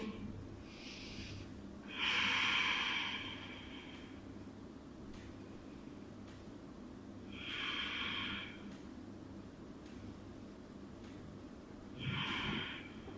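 Three slow, deep breaths taken during a seated forward-fold yoga pose, each a broad airy rush of inhaling and exhaling, close and clear, separated by quiet pauses with a faint steady hiss underneath.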